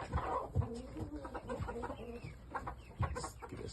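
Shamo chickens in a backyard run, being treated for red mite, cluck in short irregular bursts close by, with scattered softer clucks and rustling between them.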